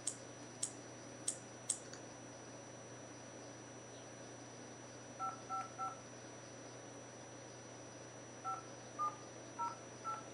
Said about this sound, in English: And now I've got to put in this other stupid phone and dial it up every time.